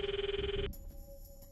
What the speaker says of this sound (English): The footsteps overlapped with the sound of the ringing.